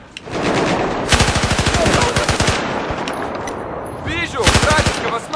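Rapid gunfire bursts in Battlefield 4, dense automatic shots rattling loudly through most of the clip with a second burst near the end, battle noise throughout.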